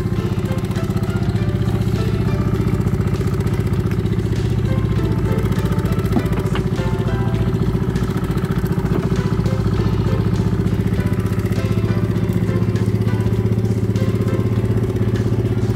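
A fishing boat engine on a Trabzon bonito trip chugs loud and steady at close range, a continuous rhythmic low rumble with rattling overtones and no voices over it.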